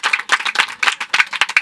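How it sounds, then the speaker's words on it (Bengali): A crowd gathered at a cattle market claps in short bursts, several quick rounds of hand claps close by with no talking over them. "সবাই একটি হাততালি দিতে চাই"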